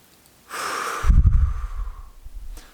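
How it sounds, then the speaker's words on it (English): A deep breath close to the microphone: a half-second breathy inhale, then a longer heavy exhale with a rough, rumbling quality that fades out slowly, heard alone. "Do a little deep breathing."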